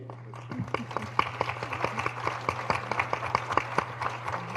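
Sparse audience applause at a Pinetop-Lakeside candidates forum, separate claps rising and falling over a steady low hum, moderately near, with no talk.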